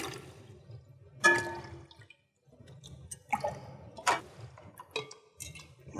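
Water is poured back and forth between laboratory beakers during an equilibrium demonstration, with intermittent splashes and drips against a quiet background and a short silent gap midway.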